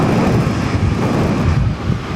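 A Thai Airways airliner takes off from runway 16 right at Sydney Airport, a loud, steady jet roar mixed with wind buffeting the microphone, with no talking.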